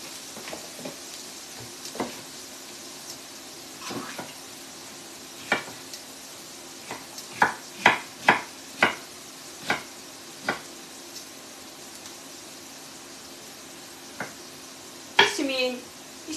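Onions and peppers frying in a pan for tchektchouka, a faint steady sizzle broken by a series of sharp clicks and scrapes of a utensil against the pan, mostly quiet and close.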